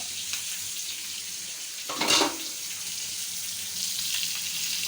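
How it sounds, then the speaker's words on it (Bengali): Hilsa fish frying in a wok gives a steady, close sizzle and hiss throughout, with a brief louder spatter in the middle and no talking. "মাছটা ফ্রাই করা সুন্দর করে আমরা ফ্রাই করে নেব"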